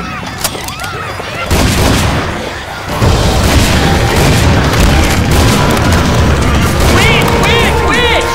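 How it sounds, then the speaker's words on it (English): A grenade blows up in Left 4 Dead 2, a loud boom that sets off a sustained roar of gunfire and chaotic combat noise, with game character voices calling out nearby. "Fire in the hole!"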